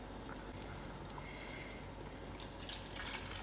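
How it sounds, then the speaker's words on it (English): Faint trickle and splash of a little water swirling in a frying pan being rinsed out in a home kitchen while making dal, soft and close with a few light drips near the end. "I will just rinse out this frying pan with a little bit of water and add it to the dal."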